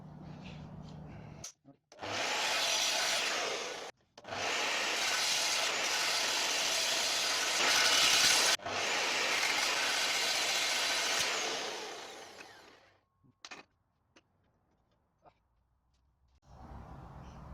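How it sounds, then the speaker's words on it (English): Power saw cutting two pieces of wood in a workshop, in two long loud bursts of about two and nine seconds each with a brief pause between, then quiet with a few small knocks and handling noises. "I've cut two pieces of wood."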